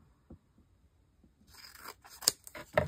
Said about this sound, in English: And I can cut off a little bit here.